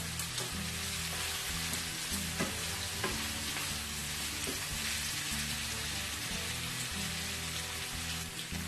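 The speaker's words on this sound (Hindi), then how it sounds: "आप इसको प्याज में कुछ अच्छी तरीके से फ्राई करें यहाँ तक कि गोश्त का कलर चेंज हो जाए।" Lamb pieces fry with onions in a pan for a balti gosht, a steady close sizzle with continuous stirring and scraping throughout, fairly loud and unbroken by speech.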